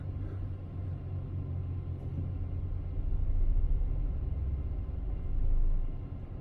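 Low, steady rumble of a truck's rear differential chatter, swelling twice into heavier, deeper surges before easing back, with no voices.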